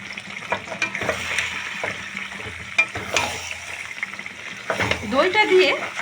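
Yogurt and cashews sautéing in a pan for Bengali doi potol, with a steady sizzle and frying crackle broken by stirring scrapes, close and moderately loud, no talking.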